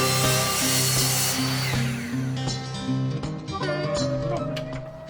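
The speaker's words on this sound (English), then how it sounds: "To begin, cut your J-channels to length and mitre the corners." A power saw cuts J-channel trim for shiplap cladding installation, a loud whining blade that rises and drops across a few seconds with short pauses between cuts.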